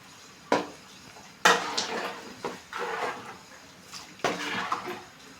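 Spice powder being stirred into fish curry in a pot, several distinct scraping and clanking strokes of a utensil against metal, spaced irregularly and fairly close, with a wet swishing between them.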